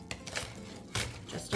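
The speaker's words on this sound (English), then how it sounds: "now we're gonna chop up some green onion" Knife roughly chopping green onion on a cutting board; a few close, sharp thuds spaced unevenly across a short moment.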